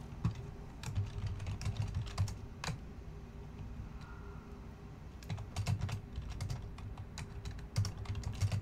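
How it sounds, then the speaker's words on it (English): Keys tapped on a computer keyboard in irregular bursts and pauses, close and fairly quiet, over a low background hum, without any talking. "If I could type"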